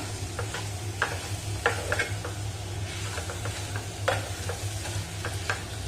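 A spoon stirring jaggery as it melts in a pan, giving soft sizzling and irregular scraping clicks over a low steady hum, close by with no voices.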